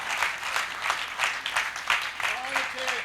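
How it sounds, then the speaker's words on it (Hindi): An audience at a Hindi poetry recital in Pitampur, Delhi applauds a woman poet in steady bursts of clapping, fairly close, with faint voices near the end. "एक बार जोरदार तालियां बजाइए"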